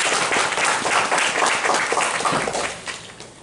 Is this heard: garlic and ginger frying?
no